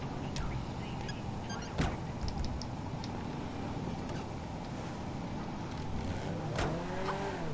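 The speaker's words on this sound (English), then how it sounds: "I do like the start-up noise." A Weeny Issi Classic, a small classic car in GTA 5 with a new engine design and a big air filter, starts up with a sharp crank, idles steadily, then gives a short rising rev near the end.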